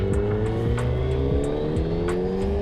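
A Suzuki Hayabusa motorcycle engine runs steadily at close range, a loud continuous drone with rhythmic rising pitch sweeps like gentle revving.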